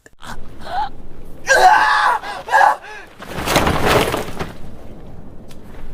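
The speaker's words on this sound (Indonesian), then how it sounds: "Eren yang nyeri hati itu pun langsung pergi keluar dan ngagorowok atau berteriak sekencang-kencangnya" A loud, strained scream from the anime Attack on Titan rings out in bursts, followed by a harsh, noisy roar of shouting voices.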